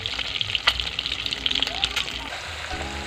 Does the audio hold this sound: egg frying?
yes